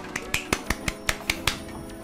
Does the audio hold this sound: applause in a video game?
yes